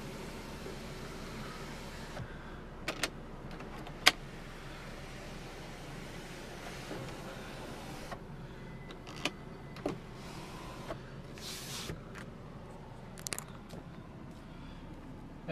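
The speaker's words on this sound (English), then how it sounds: "Power sunroof." The power sunroof motor of a 2008 VW Beetle 2.5 hatchback gives a faint, steady electric whir inside the car, broken by a few soft clicks and thumps.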